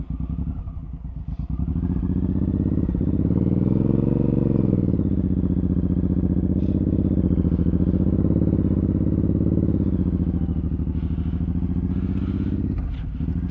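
A Suzuki M109R motorcycle engine drones steadily while riding, its deep rumble rising and falling gently with throttle changes, close and constant with wind noise and no talking.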